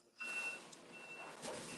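An electronic alarm gives a thin, steady high-pitched beep, heard in two drawn-out tones over quiet room noise.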